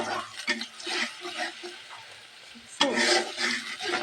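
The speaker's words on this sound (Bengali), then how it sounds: "এই যে গরম তেলে এই দারচিনিটা দিয়ে দিলাম" Cinnamon hits hot oil in a pan for a beef curry, making a crackling sizzle with stirring scrapes. The sizzle flares up sharply near the end, close and fairly loud, and no one talks.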